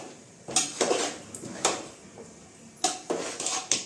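A metal spoon scrapes and clinks against a pot while stirring freshly boiled rice, several short separate clatters in two bursts with quiet gaps between, close and alone.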